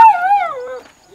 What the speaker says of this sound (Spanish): Perro contento.